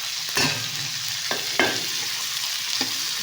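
Ginger and cashews frying in oil with a little ghee, a steady bright sizzle up close, broken by a few sharp spoon clinks and stirring scrapes.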